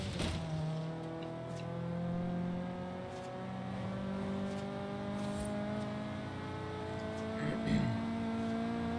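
A Mazda Miata drives in the racing game Forza Horizon 3, its engine holding a steady drone with rising and falling gear tones over about nine seconds, accompanied by occasional thumps and faint background noise.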